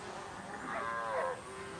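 Cattle moo once, a drawn-out low call rising and fading over about a second, heard alone against a faint steady background with no voices.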